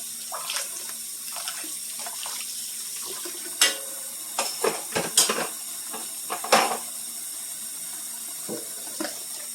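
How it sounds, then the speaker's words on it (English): Serving spoons and other kitchen utensils are being washed under a running tap, with steady water flow punctuated by scattered clinks and knocks of metal against the sink. "What I'm going to do is give it a head start. And get the utensils washed."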